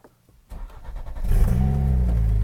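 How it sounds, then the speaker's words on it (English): A Ford Focus RS with a built engine and turbo kit cranks and fires after a quiet moment, then settles into a loud, steady idle with a brief rev, close to the microphone. "Actually, start the car up so you can see."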